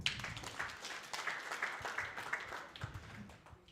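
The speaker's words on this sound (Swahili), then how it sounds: "Pigia Sara makofi" Audience applause at an animal husbandry carnival in Kenya: a steady, fairly soft patter of many hands clapping that runs through the whole moment with no talking over it.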